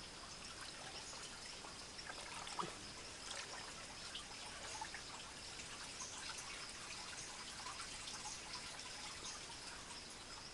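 A weak stream of water trickles faintly beside a small grotto below a waterfall in the Serra dos Parecis hills, a soft, steady, continuous babble with no talking.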